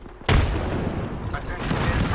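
Gunfire from the video game Apex Legends opens with a sharp, loud shot and continues in a dense rattle of fire, with in-game voice callouts over it.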